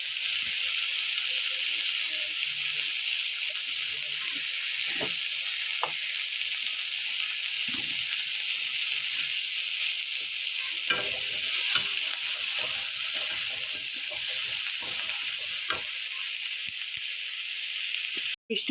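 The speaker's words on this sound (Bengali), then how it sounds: "ইচা শুটকিটা আমার ভাজা হয়ে গেছে পেঁয়াজ কাঁচা লঙ্কা রসুন দিয়ে" Dried shrimp fry in a pan with onion, green chili, garlic and turmeric, a loud, unbroken sizzle and hiss with scattered spoon scrapes and stirring clicks, ending in a sharp knock.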